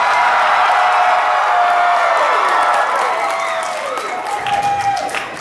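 Convention panel audience bursting into loud applause with cheering and whoops, the crowd noise strong at first and gradually thinning toward the end.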